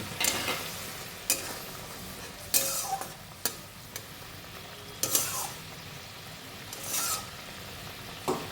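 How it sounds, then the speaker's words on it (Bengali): Fish pieces going into boiling spiced broth with salt and turmeric, a soft bubbling hiss broken by several bright scrapes and splashy bursts of stirring, close and fairly quiet, no talking. "এবার দেখো ফুটে গেছে, এবার মাছগুলো আমি ছেড়ে দিচ্ছি।"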